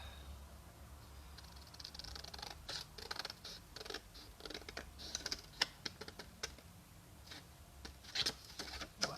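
Scissors cutting paper rectangles by hand for a pop-up card, close and quiet, with a run of crisp snips and rustling paper that grows more frequent toward the end, no talking.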